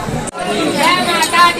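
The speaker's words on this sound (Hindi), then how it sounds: "और यहाँ पर दर्शन के लिए भीड़।" A dense crowd of devotees murmurs and chatters steadily at Maa Sharda temple in Maihar, reached by 1017 steps, a continuous mass of overlapping voices with one brief dip near the start.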